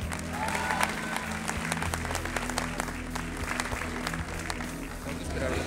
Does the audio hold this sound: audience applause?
yes